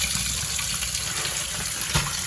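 Rui fish rinsed under running water: an unbroken splashing and trickling stream close by, with a brief louder gush near the end.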